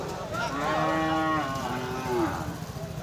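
A bull lets out a long, drawn moo close by at a cattle market in Thakurgaon, Bangladesh, followed by a shorter lower call, over faint background noise.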